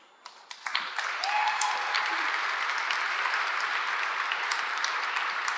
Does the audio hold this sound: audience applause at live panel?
yes